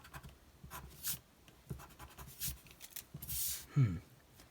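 An eraser rubs over paper while a cartoon elf drawing is being worked on, giving faint, irregular scrubbing strokes with short pauses between them. No one speaks.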